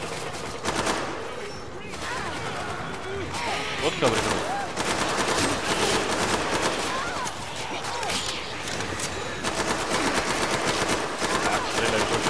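Rapid automatic gunfire and shots from the video game Killing Floor 2 run almost continuously in dense bursts, loud and close, with a player talking over the shooting.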